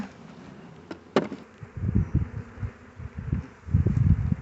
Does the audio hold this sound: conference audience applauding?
no